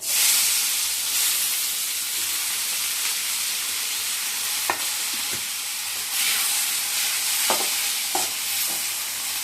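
Chopped onions and green chilies frying in curry oil, a continuous hiss and sizzle close up, with a few sharp scrapes and taps of a stirring spoon against the pan.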